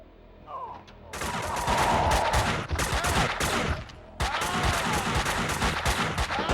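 Dense gunfire from a shootout in the video game Max Payne 2, with rapid overlapping shots and bursts that stay loud and continuous after a short quieter lead-in, then briefly drop before resuming.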